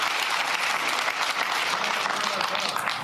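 An audience behind a political speaker claps in a dense, continuous roar of applause that holds steady and fairly loud throughout, with no clear individual claps standing out.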